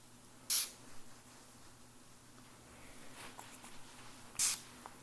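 Two short, sharp hissing bursts of a spray bottle, one near the start and one near the end, close and clear against a quiet, softly humming room.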